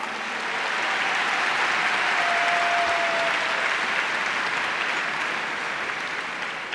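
Sustained applause from a dinner audience at an awards event, building quickly, holding dense and steady, then easing slightly at the end.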